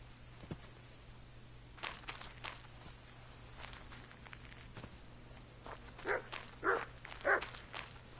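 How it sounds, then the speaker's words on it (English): Dogs bark in the medieval world of the video game Kingdom Come: Deliverance: three sharp barks at mid-distance near the end, following soft footsteps over a quiet ambient bed. "As you can see, the dog's barking and everything"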